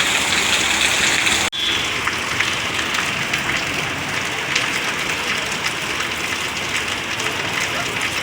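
Heavy rain in Odisha pours steadily in a dense, loud hiss, briefly cut off for an instant before resuming at full strength.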